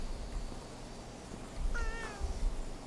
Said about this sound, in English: The cat might have jumped down from one of those pillars.